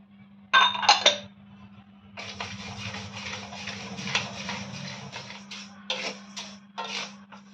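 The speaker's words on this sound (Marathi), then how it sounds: "आता तांदूळ भाजून घेऊया।" Rice grains being dry roasted in a pan for thalipeeth flour, with a sharp rattling clatter at the start followed by continuous scraping and shuffling of grains against metal in uneven bursts, close and with no talking.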